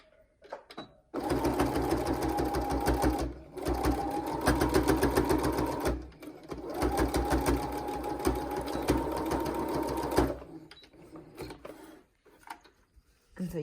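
Sewing machine stitching rows across the pleats of a fabric face mask, running in two long steady bursts with a brief pause between them, close and clear with no talk.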